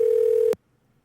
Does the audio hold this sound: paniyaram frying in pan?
no